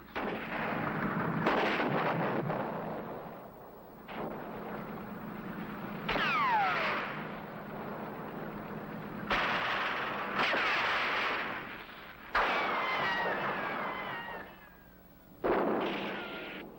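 Artillery and gunfire from WWII battle footage in Normandy, with heavy booms and bursts of shots arriving in repeated loud blasts every few seconds, some with whistling shells, over a constant rumbling battlefield background.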